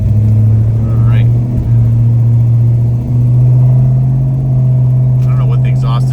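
A 1968 Dodge Charger R/T with a 440 V8 pulls away, its exhaust giving a loud, deep, steady rumble that holds nearly constant through the stretch, close to the listener.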